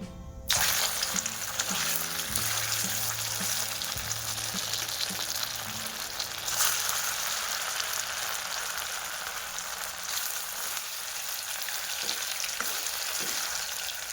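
Patra vada, rolled colocasia leaf slices, frying in hot oil, giving a steady close sizzle with bubbling crackle that holds evenly throughout, a faint background hum beneath and no voices.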